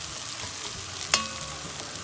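Onions caramelizing in a pan give off a soft, continuous sizzle. A spoon stirs them constantly, and one sharp scrape or clink stands out partway through.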